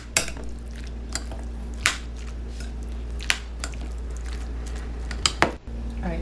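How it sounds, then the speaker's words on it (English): Pork sisig coated in thick sauce is tossed and mixed like a salad, giving soft, wet squishing close up, with occasional sharp clinks of utensil against bowl and a steady low hum underneath. "just mix it like salad"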